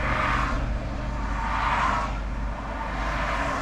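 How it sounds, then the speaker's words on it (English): Cars drone along a road toward an intersection, engine noise swelling as vehicles approach and pass at about 100 meters, with no talk. "waiting on some cars coming"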